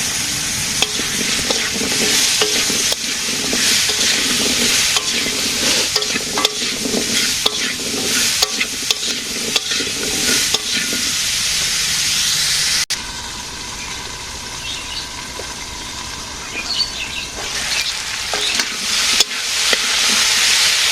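Vegetable stalks fry with onion and potato in a pan during village cooking, a loud steady sizzle punctuated by repeated spatula scrapes and clacks. The sound briefly drops quieter midway before the stirring picks up again.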